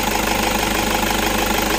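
A Toyota Innova engine idles at a steady, even rumble with a faint knocking texture, close and continuous throughout with no talking.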